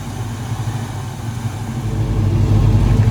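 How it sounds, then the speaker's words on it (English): A 1970 Chevrolet Nova with a set of headers runs close by, its V8 giving a steady low idle rumble that swells louder toward the end. "Car sounds fabulous."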